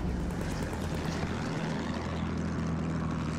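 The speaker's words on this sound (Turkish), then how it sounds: "Aha, düşman bombardıman tayyaresi." An enemy Halberstadt bomber plane in Battlefield 1 drones loudly overhead, a dense, steady propeller engine roar filling the whole moment without any voices.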